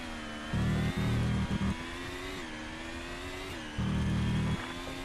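Formula 1 race car engine in a mobile racing video game at the Canadian Grand Prix, holding a steady high, buzzing whine that dips briefly as it shifts, with a couple of louder low rumbling patches.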